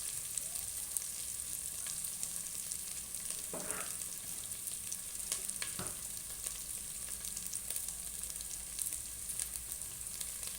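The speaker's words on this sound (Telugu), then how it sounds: "ఆల్మోస్ట్ అల్లం కూడా ఫ్రై అవుతుంది." Ginger fries in hot oil with a constant soft sizzle and crackle, joined by a few brief stirring scrapes partway through.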